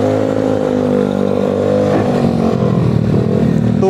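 A Vespa scooter revs close by through a loud, wide-mouthed exhaust, a steady droning roar that climbs in pitch partway through and turns rougher and more rattly toward the end, with no talking.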